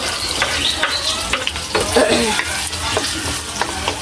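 Chopped onion hits a hot pan for ginisang monggo, a mung bean stew with malunggay, and crackles in a broad, steady sizzle punctuated by scraping stirs, close by and with no talking.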